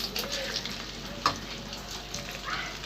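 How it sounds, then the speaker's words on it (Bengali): Rice for basanti pulao fries and is stirred in a pan, a soft continuous sizzle broken by scraping stir strokes and one sharp clink, fairly quiet and close. "এবার চালটি দিয়ে দিচ্ছি"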